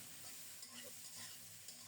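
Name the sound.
pointed gourd frying in pan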